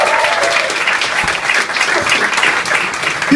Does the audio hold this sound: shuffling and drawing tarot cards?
no